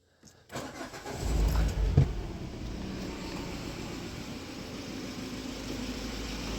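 A Peugeot 301 1.6 engine with a misfiring first cylinder cranks briefly, then catches and settles into a steady low idle rumble, fairly close and with no talking.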